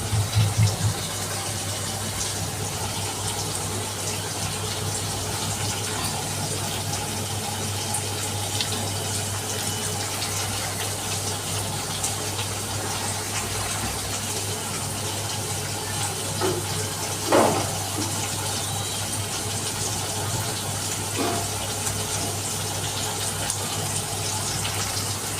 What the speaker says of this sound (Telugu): దీంట్లో కొన్ని వాటర్ వేసుకొని బాగా బాయిల్ చేసుకోవాలి